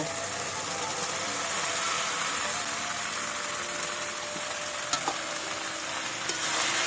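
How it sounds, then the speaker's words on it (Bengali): Spice paste and boiled jackfruit are stir-fried in a pan for an echor chingri dish, making a steady, loud sizzle with a few scrapes of stirring. "এবারে মশলা আর কাঁঠাল একসঙ্গে আমি কষিয়ে নেব"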